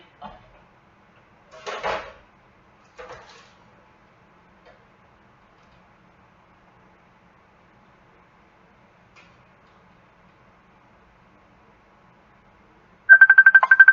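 A telephone rings loudly and suddenly at the very end, a bright pulsing electronic tone, after a long quiet stretch in a kitchen with a few scattered clatters during Mexican cooking.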